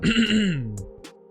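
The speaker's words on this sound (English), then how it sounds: "sorry for clearing my throat so much this episode" One close throat clearing: a drawn-out, rasping voiced grunt that trails off, followed by a couple of short clicks.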